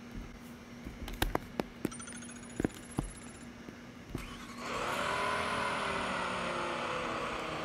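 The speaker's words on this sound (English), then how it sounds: "Wow, sounds like a race car." McLaren Solus GT race car engine in the Roblox game Taxi Boss, a few sharp clicks at first, then a steady loud engine roar building in for the last few seconds.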